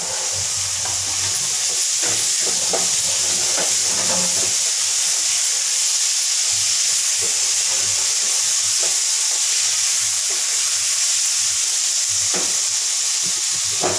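Tomatoes frying with masala and onions in a pan, a steady close sizzle with scattered spattering pops and occasional stirring clicks running throughout, no voices.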